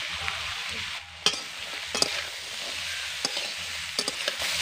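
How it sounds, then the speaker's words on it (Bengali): Peas and raisins sizzle in hot oil for vegetable pulao alongside carrots and beans, a steady close hiss broken by sharp clicks of a spoon stirring the pan. "এবার এগুলোকেও আমি ভেজে নেব।"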